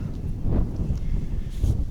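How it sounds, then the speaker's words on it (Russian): Steady wind blustering across the microphone outdoors at a marsh while fishing in spring, a low rumbling roar that swells and gusts throughout with no clear pauses. "Ух, ветер какой."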